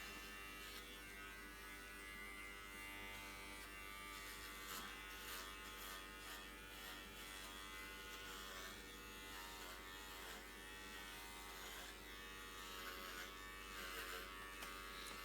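Electric clippers buzz steadily while trimming a dog's fur, a continuous faint motor whine with slight shifts in pitch as the blade moves, no voices.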